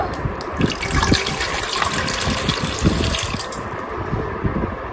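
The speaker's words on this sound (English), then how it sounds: "to the pressure cooker I'm adding some water" Water gushes steadily into a pressure cooker, a loud continuous pour with splashing and bubbling throughout.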